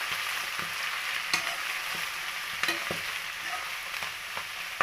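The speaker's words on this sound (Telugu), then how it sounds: "ఈ తడి కూడా పోయేంత వరకు ఫ్రై చేసుకోవాలి" Wet Malabar spinach leaves are stirred and fried in a pan, making a dense, continuous sizzle broken by soft scrapes and taps from the spoon, heard up close with no voices.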